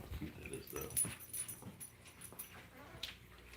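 A Chihuahua whimpers and yips in soft, uneven bursts close by, with faint voices and light clinking in the background.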